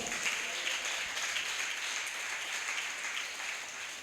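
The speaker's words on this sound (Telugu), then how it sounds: "చప్పట్లు కొడదా?" A church congregation applauds together, a dense, even wash of clapping heard from across a hall that holds steady and then begins to fade.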